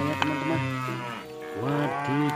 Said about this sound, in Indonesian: ini ada hewan kerbau sedang makan rumput